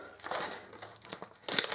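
A plastic freezer bag holding cookie dough is zipped shut, giving short crinkling and rustling bursts close by, ending in a louder crisp rasp.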